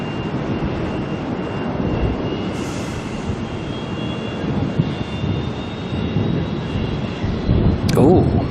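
A jet airliner engine spooling up at Auckland airport, a broad rumbling roar that swells gradually and grows louder toward the end, heard at a distance, with a brief sharp sound near the close.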